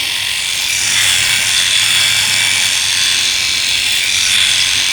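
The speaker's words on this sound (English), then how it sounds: "As with all Phillips shavers, it's not very noisy at all, it's not very loud, is it?" A Philips i9000 Prestige electric shaver runs continuously at close range, giving a steady high buzzing whir with slight rises and falls as it moves, with no talking.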